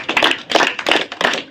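Children clap their hands in a quick, uneven rhythm, with bursts of claps arriving in four clusters and no talking over them.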